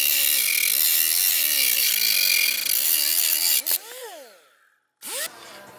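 An angle grinder or cutting disc, loud and close, screams through metal as it cuts a hub assembly off a GY6 scooter for a rear disc brake build. The pitch wavers with load, then the tool spins down and restarts briefly.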